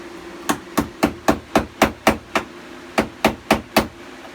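Hammer blows knock old tile off the wall of a boat's aft head, a steady run of sharp, close, loud strikes with a brief pause partway through.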